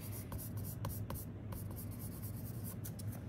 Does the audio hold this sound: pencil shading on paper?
yes